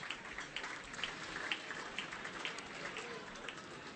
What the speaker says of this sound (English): give those people a round of applause for coming along and supporting tonight.